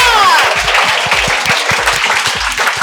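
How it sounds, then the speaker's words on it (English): Audience at a felicitation ceremony breaks into brisk, close applause, a dense patter of clapping hands lasting a few seconds. "Clap for Utkarsh, guys."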